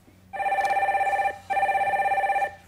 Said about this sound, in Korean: 전화 연결해 주세요.